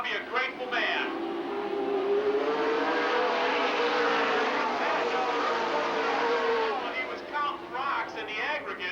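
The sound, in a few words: super late model race cars racing at Lake Geneva Raceway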